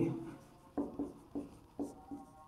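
Chalk or marker strokes on a classroom board during an economics lesson, five distinct scraping strokes in a loose rhythm, close and moderately loud, with no voices.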